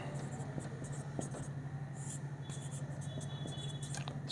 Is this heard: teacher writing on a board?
yes